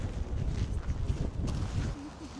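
Wind gusting outdoors in front of the palace at the Kuskovo estate in Moscow, a steady low rumble buffeting the microphone throughout with a brief whistling tone near the end.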